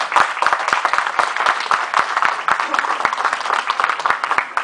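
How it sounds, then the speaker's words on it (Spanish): A sustained burst of audience applause at a book presentation during an international book fair, with dense overlapping claps filling the room and a few sharp individual claps standing out over the steady roar. "Démosles la bienvenida con fuertes aplausos"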